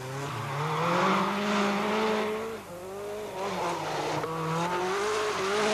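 Rally car on the Col de Turini descent of the 1985 Monte Carlo Rally, engine note rising and falling through gear changes with tire squeal, loud and close, fading briefly mid-way before revving again.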